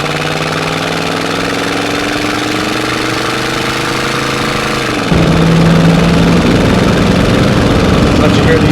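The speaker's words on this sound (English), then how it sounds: "Let you hear the exhaust a little bit" A restored 1965 Ford Mustang's engine and exhaust drone steadily from inside while driving, with a falling pitch and then a louder, rougher rumble in the second half.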